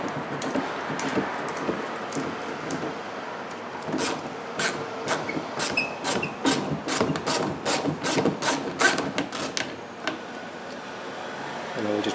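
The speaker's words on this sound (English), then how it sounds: "We're going to take out that little 10 millimeter bolt there, just so we can get to the oil filter." Ratchet wrench clicking as it backs out a small 10 mm bolt near the oil filter on a 2015 Infiniti, a run of sharp, evenly spaced close clicks under a faint background hum.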